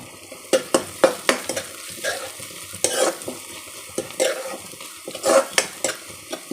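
Chopped spring onion greens and green chillies sautéed in a pan for Indo-Chinese paneer chilli, with a steady sizzle and frequent scraping spatula stirs scattered throughout, close and fairly loud, with no talking.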